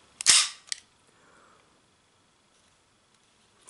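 A Sig Sauer P226 X-Five 4.5 mm steel BB pistol fires a single CO2 shot with blowback: one sharp, loud crack followed by a quick metallic slide clack, then near silence.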